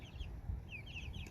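Chickens in a backyard coop, soft intermittent clucks and chirps over a low rumble, faint and close, no talk.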